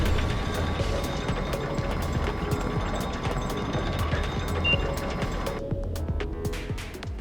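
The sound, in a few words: elevator machinery in video game Digimon Story: Time Stranger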